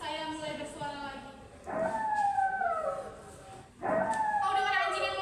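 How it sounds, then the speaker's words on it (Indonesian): A dog howls twice in long wavering, falling cries, fairly close, with a brief pause between the two calls, during a class theatre stage performance. "Kau dengar anjing yang melolong itu?"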